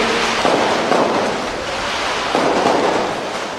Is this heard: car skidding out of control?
no